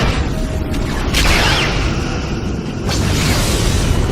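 A destroyed Romulan ship in Star Trek Legacy erupts in a loud, sustained space-battle explosion, with booming surges that swell twice over a continuous rumbling roar.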